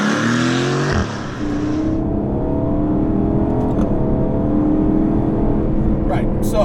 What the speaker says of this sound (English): There is no questioning the effectiveness of the Mercedes 4-liter V8